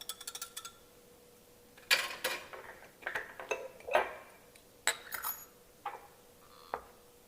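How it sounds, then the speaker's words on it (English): Sauce poured into a glass jar in a home kitchen, with scattered clinks and taps of glass and utensils coming in short bursts at moderate closeness, no talking. "now let's pour it in our pretty jar."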